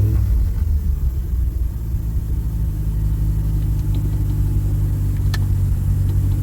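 Mazda RX-7 rotary engine on a cold start, settling into a steady, loud low rumbling idle that runs continuously and close up, with no talking over it.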